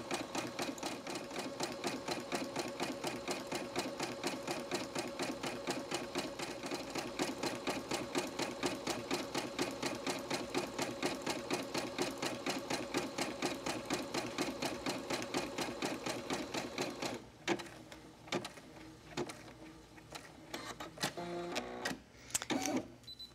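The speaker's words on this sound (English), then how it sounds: "When the embroidery finishes, then it's time to remove it from the machine." An embroidery sewing machine stitches fabric-scrap gift tags with a fast, even mechanical chatter that holds steady for most of the clip. Near the end it breaks into irregular clicks and short bursts as the stitching slows.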